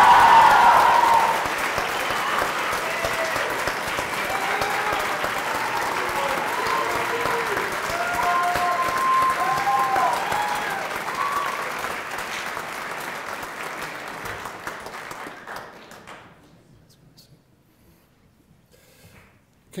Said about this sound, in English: Let's have one more giant round of applause for all of our graduates.